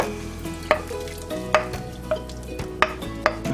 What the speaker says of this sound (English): Okay, so in goes the beef with all the juices.